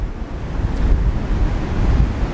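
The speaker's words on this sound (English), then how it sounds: "I'm actually using these waves here" Ocean waves break on a shore in a continuous loud rushing wash, with heavy low rumble and wind buffeting the microphone, no voices.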